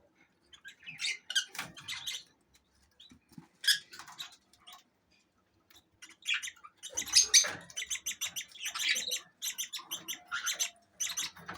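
Pet budgerigar chicks that have just left the nest and their parents chirp in a bird room as the father feeds them. Bursts of high, squeaky chirps and twitters come close by, with short pauses between them, busiest toward the end.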